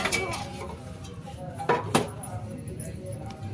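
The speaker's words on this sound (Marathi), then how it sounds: "भांडी घासते" Dishes, pots and pans clatter at a household washing spot, with a few soft metallic clinks and knocks, two sharper ones close together, over a low steady background.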